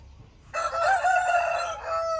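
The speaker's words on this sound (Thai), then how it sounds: "เสียงไก่ตอนเช้าค่ะ" A rooster crows once, a long loud call after a brief quiet start, holding its pitch before trailing off.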